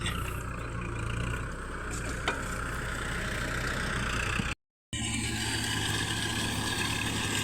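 A Kubota tractor engine runs steadily in a rice field in Laos during ploughing season, a continuous mid-low drone with a brief dropout partway through and no talk.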